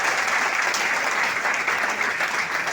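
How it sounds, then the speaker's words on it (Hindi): An audience at a college event breaks into applause, a dense, steady clapping that holds throughout at moderate loudness with no voices over it. "प्लीज तालियां बजाइए।"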